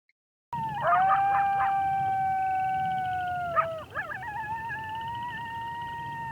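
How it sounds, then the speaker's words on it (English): A coyote howls in long, wavering tones, then breaks into quick yips and a warbling trailing call, clear and alone. "That was a coyote howl."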